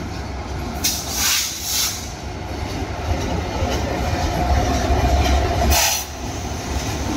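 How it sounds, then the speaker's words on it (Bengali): A train rolls slowly through an unfinished station without stopping, a steady rumble and rattling of wagons close by, with hissing bursts rising over it. "ট্রেন কিন্তু দাঁড়াবে না, কিন্তু আস্তে আস্তে থ্রু পাস করে চলে যাবে।"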